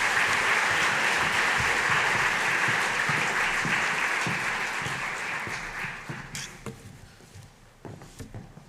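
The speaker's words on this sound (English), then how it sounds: "Everyone, please give a round of applause for our families, the Piazzas and Mrs. Gruver." An audience claps in a sustained round of applause for families at an evening session, steady and full at first, then thinning into scattered individual claps that fade toward the end.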